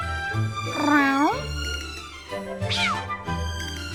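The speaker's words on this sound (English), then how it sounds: "Kitty came to our room!" A cat in The Adventures of Elliot: The Millennium Tales video game gives two clear meows, one near the start and a shorter, higher one later, over a low background hum.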